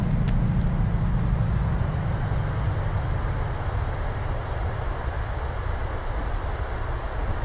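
An airliner rolling out under maximum manual braking after a hard landing in a flight simulator game, a continuous loud low rumble with a steady hiss on top, ending with a faint brief click.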